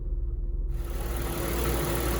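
Buick Lucerne engine idling as it warms up, a steady low hum with a faint constant whine, close by and alone without talk, after a brief quiet start.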